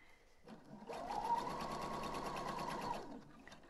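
Sewing machine stitching ribbon in a short, even two-second run with a gentle start and stop, close and clear with no talk over it.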